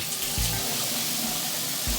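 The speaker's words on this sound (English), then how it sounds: "so that's quite a bit more flow than with the restrictor on" Winthorpe shower head running with its flow restrictor removed, a steady full hiss of spraying water throughout, with a few low thumps of droplets or pipe knocks underneath.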